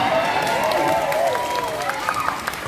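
A crowd at a Balinese drama gong performance in a banjar hall claps in a sustained burst, while a voice rings out over the applause.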